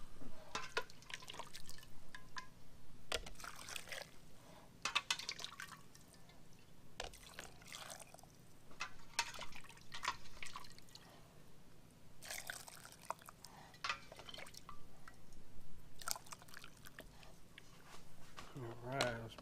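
Brine pouring into a jar of green beans being pickled, a soft intermittent trickle and drip heard close up with occasional talk over it.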